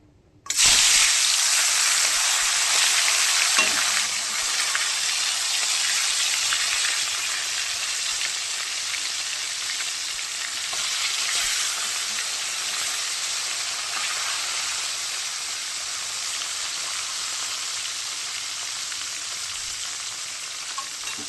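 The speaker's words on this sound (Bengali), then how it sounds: "তেল গরম হয়ে গেছে, এখন আমি কই মাছগুলো দিয়ে দেবো।" Koi fish drop into hot oil and fry with a loud, dense, continuous sizzle that bursts up at the start and then holds steady, easing slightly over the long run.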